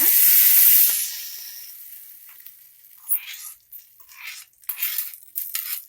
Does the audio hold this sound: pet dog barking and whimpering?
no